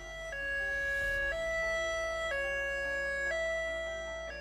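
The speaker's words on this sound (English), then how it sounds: "staff to actually be out driving in the areas with a high-low siren" A high-low emergency siren alternates between two pitches roughly once a second, a clear two-tone wail sounding steadily on its own without any voices.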